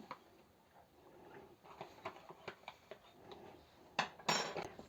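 Light clinking and scraping of utensils against a bowl while mixing flour and dry yeast, a series of soft irregular taps that build to a few louder knocks near the end.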